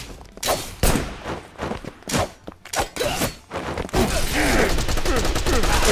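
Gunfire in the action game Wanted: Dead: loud, close bursts of shots in irregular clusters, giving way to a sustained dense volley of rapid fire near the end.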